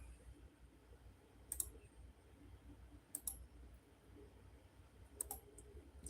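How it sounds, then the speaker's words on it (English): Computer mouse clicking while browsing a list of pre-market stock runners, three short sharp click pairs spaced a couple of seconds apart over a quiet low room hum, no talking. "Clicking through our top volume runners to see if any of them are doing anything"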